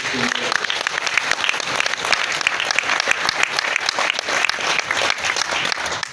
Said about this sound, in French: Si nous pouvons encore applaudir son Excellence